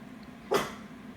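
A single sharp dog bark sounds once, fairly close, against a quiet room background.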